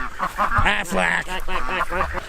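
Ducks kept in enclosures beside a pond give a run of loud, nasal quacks and honks in quick, uneven bursts, close by and filling the whole stretch.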